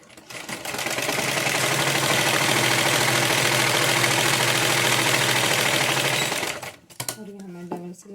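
A sewing machine stitching a Patiala pajama runs in one steady, fast, loud burst for about six seconds, then stops abruptly, followed by brief quiet handling and someone speaking.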